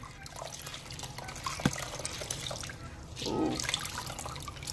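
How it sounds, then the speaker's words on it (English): A wet cloth is wrung out in a basin of hot water, giving a few faint drips and a short splashing trickle that stand out against low background hiss, with a brief exclamation from a voice. "And I'm gonna wring it out."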